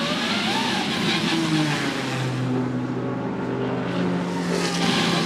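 A race car engine accelerates out of a pit stop during a Michelin GT Challenge race at VIR. The engine sounds loud and continuous, with rising and shifting tones under a broad noisy wash, and no voices are heard.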